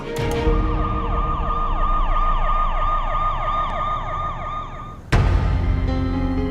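An ambulance siren wails in fast, repeating sweeps, loud and close, then breaks off abruptly near the end into a sharp burst of noise.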